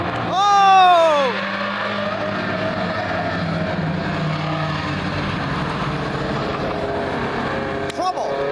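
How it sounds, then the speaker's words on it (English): A stock car at Lee speedway on a rain-wet track gives a sharp, rising tire screech as it spins out, then a steady, loud wash of engine and track noise follows. "The stock car spun out, almost hit the wall."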